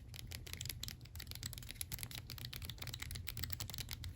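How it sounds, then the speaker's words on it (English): Clicky keypad buttons pressed rapidly on a 2009 Nokia 5730 XpressMusic phone, a dense run of small sharp close clicks with no voices. "Really nice and clicky, these buttons."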